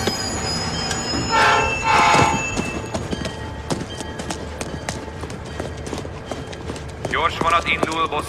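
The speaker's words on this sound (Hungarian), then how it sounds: "Gyors vonat indul Bostonba a 4-es vágányról." A train moves through a station, with rumbling wagons, rhythmic wheel clatter and a squeal toward the end, under station voices and an announcement.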